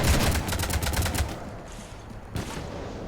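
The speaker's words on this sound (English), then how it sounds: "You want to stop shooting up my ship?" Rapid gunfire hits a ship in the Mass Effect 3 video game, a loud burst of closely spaced shots that stops after about a second and a half, followed by a duller single impact.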